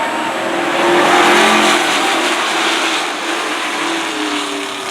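Modified race cars in the Monaco Modified Tri-Track Series roar around Stafford Speedway at a kids night race, a loud continuous engine drone swelling and fading slightly as the pack passes, with no talk.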